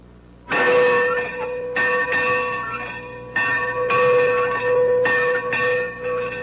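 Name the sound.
old college bell ringing to begin classes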